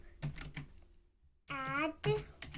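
Keys on a computer keyboard click as a slide title is typed, a few sparse taps close by, with a brief tonal voice-like sound in between.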